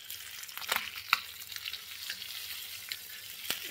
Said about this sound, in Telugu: ఇక్కడైతే ఫ్రై అయితే రెడీ అవుతూ ఉంది.